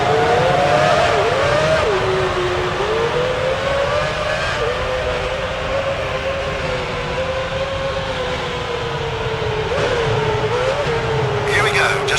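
Formula One cars roar away on their parade lap at Melbourne in a racing game, a loud sustained engine whine rising and shifting in pitch, with a commentator talking over it.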